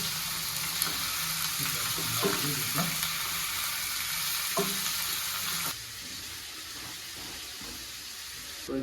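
Eel pieces fry with onions in a pan for a spiced eel curry, giving a continuous crackling sizzle with occasional scraping stirs, louder at first and settling to a quieter hiss partway through.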